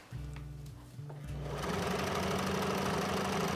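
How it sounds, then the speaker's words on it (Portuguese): Domestic sewing machine stitching a long straight seam along the edge of an apron, starting in short bursts and then running continuously with a fast, even mechanical whir and needle patter, close and fairly quiet. "E aí vem fazendo uma costura reta direto."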